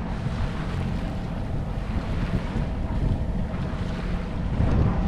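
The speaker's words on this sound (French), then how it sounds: "Là, on a dû remettre le moteur" A sailboat's motor drones continuously beneath strong wind buffeting and rushing water, loud and close, with no voices.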